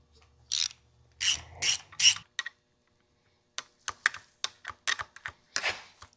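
A ratchet wrench clicks while loosening bolts on an engine with a double roller timing chain, in short bursts of close, sharp ratcheting, then a pause, then a quicker series of clicks.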